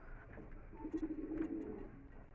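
A female Madrasi pigeon coos softly in a short run of low, rolling notes, fairly close and on its own with no talk over it.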